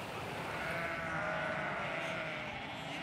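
A young goat bleats steadily among a herd in the Pakistani mountains, a dense continuous wash of animal calls and outdoor noise, loud and sustained with no clear pause.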